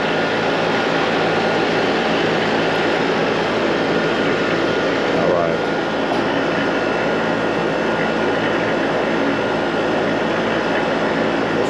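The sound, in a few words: Trane or Goodman HVAC compressor running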